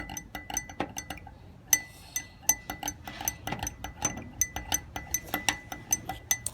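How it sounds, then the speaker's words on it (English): A spoon stirs colours inside a glass jar in a kids' science experiment, giving a quick run of sharp, bright clinks against the glass, close and fairly steady, with no voices. "now stir them up."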